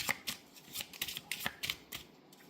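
Jesus oracle cards being shuffled by hand, a run of crisp riffling bursts in quick irregular rhythm, close and fairly quiet, with no talking.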